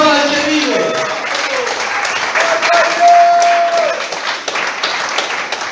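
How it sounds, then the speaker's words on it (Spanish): A Spanish-language church congregation breaks into applause, a broad, lively wash of clapping mixed with shouted voices and a sustained vocal tone rising over the crowd. "Aplauda al que vive."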